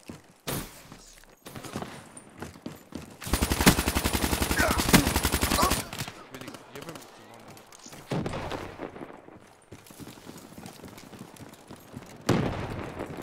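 Rapid automatic gunfire and blasts ring out in the video game Call of Duty Black Ops 3, with a long sustained burst mid-clip, scattered single shots and footsteps, and a sharp bang near the end, loud and close.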